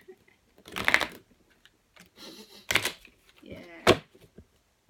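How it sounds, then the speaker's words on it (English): Tarot cards are shuffled in three short riffling bursts with quiet gaps between, near and crisp. "I love the sound of shuffling cards in the morning."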